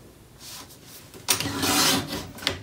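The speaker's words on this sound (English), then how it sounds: "So there's a little bit of extra trimming that goes along with this." Paper for a Stamperia Vagabond folio is trimmed with a cutter, giving close, dry scraping and swishing strokes, a longer louder pass in the middle and a few brief rubs around it.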